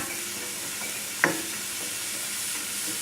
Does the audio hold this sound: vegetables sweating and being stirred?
yes